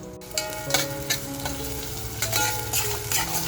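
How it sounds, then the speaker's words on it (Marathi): Mutton with onions fries in a pan, a steady close sizzle with scraping stirs and clinks of a spoon against the metal running throughout, no voices. "आता हे मटण आपल्याला कांद्याबरोबर फ्राय करून घ्यायचं आहे"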